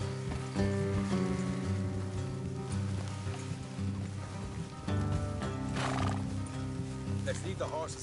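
Horses in the Red Dead Redemption 2 video game whinny amid clip-clopping hooves and mechanical clatter, heard under steady game music with a voice speaking briefly.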